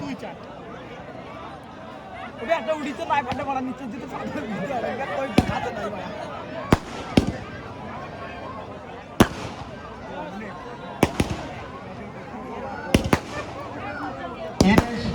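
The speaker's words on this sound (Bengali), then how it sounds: "ঘোড়ারাস বান্ধব ক্লাবের মাঠে এখন বাজি" Fireworks and firecrackers burst at a football ground during a local club match. About nine sharp, loud bangs go off at irregular intervals over a steady crowd murmur, with voices talking throughout.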